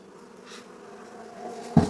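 Honeybees hum around a hive frame in a soft, close buzz that swells slightly over a couple of seconds, ending with a brief louder knock.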